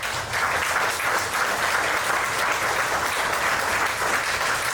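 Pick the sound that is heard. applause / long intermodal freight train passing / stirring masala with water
applause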